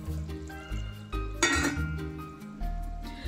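A pressure cooker lid set loosely on a cooking pot of dum gosht, heard as a single short metallic clatter and clink over background music.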